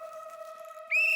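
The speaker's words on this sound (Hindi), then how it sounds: "टप्पू बंद करेला, सीटी ला इधर" A toy whistle blown in a Gokuldham housing-society comedy scene, heard as a single steady shrill tone with a rising blast near the end, loud and alone without talk.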